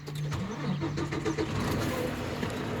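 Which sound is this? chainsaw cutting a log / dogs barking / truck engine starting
truck engine starting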